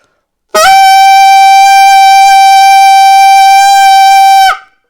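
An alto saxophone sounds a single sustained high E, a clean, steady and loud tone held for about four seconds alone before stopping abruptly.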